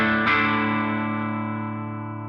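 A bass line played through the boost channel of a Laney Lionheart Foundry Super 60 amp, boost set at 3: a single struck note rings out with thick, sustained harmonics and slowly decays, no voices.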